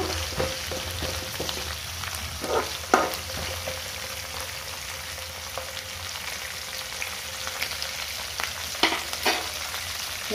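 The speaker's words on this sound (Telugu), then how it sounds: "సాబుదానాతో ఇలా ఉప్మా రెడీ చేస్తున్నాము." Sago (sabudana) upma frying in oil, a constant crackling sizzle with occasional spoon stirs and clicks against the pan, steady and close throughout.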